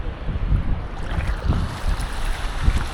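Sea water rises with the incoming tide at Alibaug beach in steady, rolling wave wash and surf, mixed with a low rumble of wind. There is no talk over it.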